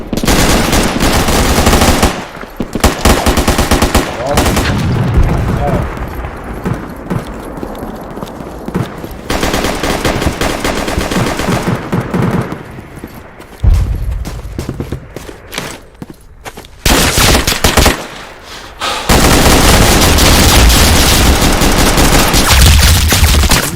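Bursts of rapid video game gunfire in a multiplayer firefight, loud and dense, with machine-gun volleys and single shots broken by short lulls.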